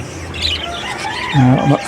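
Nesting parakeets chirp and squawk nearby in short, sharp calls, growing louder toward the end amid faint background noise.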